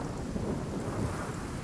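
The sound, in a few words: hail attack spell in video game Divinity: Original Sin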